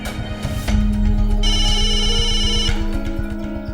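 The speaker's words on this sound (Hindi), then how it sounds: "आपका फोन बज रहा है।" A phone rings with a bright electronic ringtone for a couple of seconds over a steady background hum.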